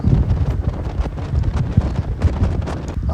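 Wind buffets a microphone on a boat touring a mangrove forest in Bintan, a dense, steady low rumble with gusty surges throughout and no talk.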